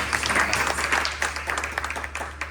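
Audience applause at a university lecture, a dense, steady patter of many hands clapping at moderate distance, tapering slightly toward the end with little talk.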